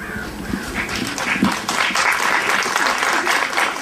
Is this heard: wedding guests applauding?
yes